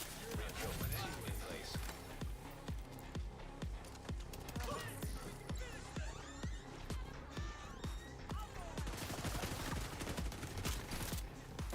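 Rapid gunfire in the shooter The Division 2, with quick rhythmic bursts of shots and clattering impacts running steadily at moderate level, while voices talk over the action.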